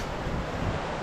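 Fast-flowing water of the East Lyn River in a wooded Exmoor valley, a steady broadband rush heard alone with no voices, fairly quiet and even throughout.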